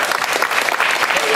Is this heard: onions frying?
no